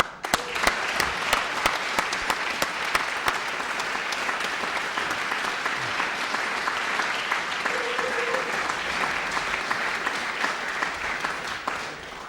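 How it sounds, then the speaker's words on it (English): Sustained audience applause at an MBA graduation ceremony, a dense, even roar of many hands clapping that continues for the whole stretch at steady loudness. "It's now all official, so a big round of applause to everybody."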